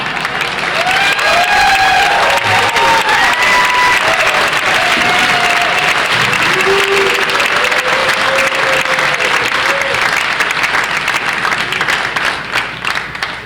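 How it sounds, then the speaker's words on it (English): Sustained, dense applause fills a banquet hall at a sports officials induction dinner, a large audience clapping steadily and loudly for over thirteen seconds, with faint cheering and voices scattered through it. "I really do appreciate the applause"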